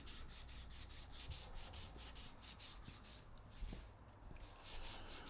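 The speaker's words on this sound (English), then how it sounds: "And all the insides of this section is getting sanded" Wood being sanded by hand with 220 grit sandpaper on the inside of a workshop build, steady rhythmic back-and-forth strokes close up, with a brief pause midway before the rubbing resumes.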